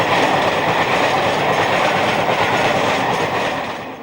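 Class 55 Deltic diesel locomotive Crepello passes Shaftholme with a passenger train from York, a loud steady roar of engine and rolling wheels with a faint clickety-clack, sustained then beginning to fade.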